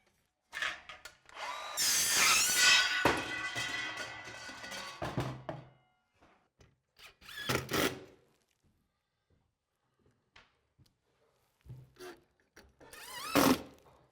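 A power drill whirs steadily for a few seconds on a roof during home renovation, then stops and starts again in short bursts, with scraping and knocks in between.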